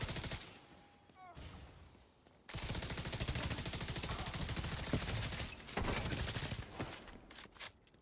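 Rapid bursts of automatic gunfire in The Division 2, a brief shot and quieter lull giving way to several seconds of dense, loud rattling fire that trails off into scattered shots.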